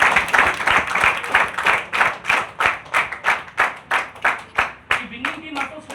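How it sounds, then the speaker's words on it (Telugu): An audience at a talk claps rhythmically in loud, synchronized unison for a winning team, steady beats slowing slightly toward the end. "విన్నింగ్ టీమ్ అసోసియేషన్ కోసం గట్టిగా క్లాప్స్ ఇద్దాం."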